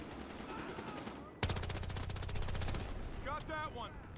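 Rapid automatic gunfire from a firefight in Battlefield Hardline, a dense sustained burst of shots about a second and a half long, loud and close over background game noise, with voices chattering around it.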